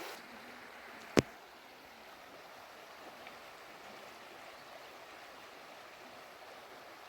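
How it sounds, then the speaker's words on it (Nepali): The Duwar stream flows with a faint, steady rush of water, broken once by a single sharp click early on. "दुवार खोला है यो चाहिँ हजुरहरू।"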